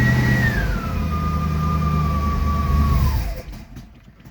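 A Studebaker Avanti engine runs steadily and loudly up close, a strong low rumble joined by a falling whine, then dies away toward the end.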